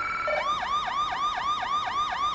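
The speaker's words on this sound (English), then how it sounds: "You see the lights, you hear the siren. That means to move." Police car siren in the Police Simulator video game, a loud wailing tone sweeping up and down in steady repeated cycles, alone without talk.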